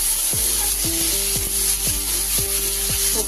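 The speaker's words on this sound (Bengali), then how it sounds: "সবজির সাথে সব কিছু আমাদের মিশিয়ে একেবারে মেরে দিচ্ছি" Vegetables being mixed in a frying pan with spices for a vegetarian dal dish, a steady sizzle under repeated scraping strokes of a spatula, roughly every half second, close and continuous.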